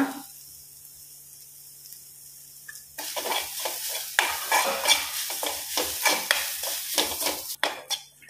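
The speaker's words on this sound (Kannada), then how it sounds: "ಒಂದು ಬಾಣಲಿಗೆ 1 ಸ್ಪೂನಷ್ಟು ತುಪ್ಪ, ಒಂದು ಅರ್ಧ ಕಪ್ಪಷ್ಟು ತೆಂಗಿನ ತುರಿ ಹಾಕಿ ಒಳ್ಳೆ ಫ್ರೈ ಮಾಡುವ" Grated coconut frying in ghee in a pan: after about three seconds of near silence, a steady sizzle begins, broken by repeated scraping stir strokes of a spoon against the pan, close and moderately loud, with no voices.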